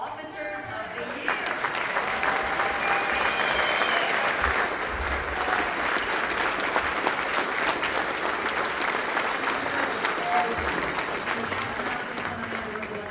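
A large awards audience applauds police officers of the year, dense sustained clapping filling the room at a steady loud level for the whole stretch with some crowd murmur.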